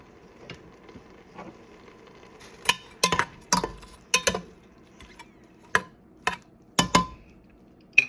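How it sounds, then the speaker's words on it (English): Beef stew with seasoning being stirred in a pot gives a run of sharp clinks and scrapes of a utensil against metal, irregular and close, louder toward the end, with no talk. "and I'm just going to stir it up"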